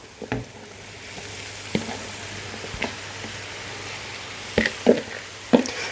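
Chopped mushrooms hit hot oil in a frying pan with a steady, moderate sizzle, broken by several sharp stirring clacks and scrapes of the pan and utensil, with no voices.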